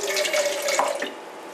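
Water runs from a kitchen faucet into a container, a steady close splashing rush that fades out near the end, with no voices.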